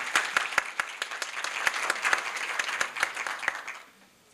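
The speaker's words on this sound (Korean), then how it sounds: "큰 박수로 맞아주시기 바랍니다" An audience in a packed university business-school lecture hall at a startup event applauds to welcome a speaker, a dense burst of clapping with sharp individual claps that holds steady, then fades out near the end.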